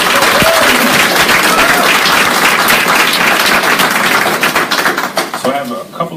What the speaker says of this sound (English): Can we give our panel another round of applause?